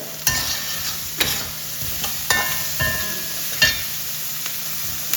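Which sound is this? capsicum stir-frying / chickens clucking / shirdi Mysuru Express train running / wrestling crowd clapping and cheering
capsicum stir-frying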